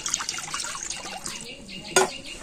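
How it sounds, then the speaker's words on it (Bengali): Water pours into a wok on a lit stove in a home kitchen, a soft splashing trickle with a brief louder splash near the end. "কড়াতে আমি এখন দিয়ে দেব জল।"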